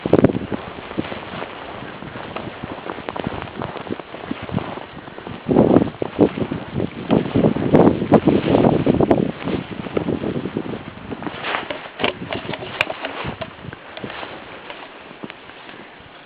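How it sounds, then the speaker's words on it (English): Snow blizzard wind roaring steadily into the microphone as a constant broadband rush with louder gusts midway, heard alone without talk. "The wind."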